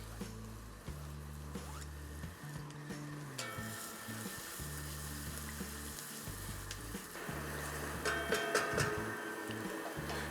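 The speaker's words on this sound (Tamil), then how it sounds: "ஆயில் சூடான பிறகு அந்த ஏலக்காய் பட்டை லவங்க போட்ட எண்ணெயில் இந்த சாப் பண்ண வெங்காயத்தை ஆட் பண்ணுறோம்" Chopped onions fry in hot oil spiced with cardamom, cinnamon and cloves for kaju masala, a quiet steady sizzle with occasional stirring scrapes over a low humming background.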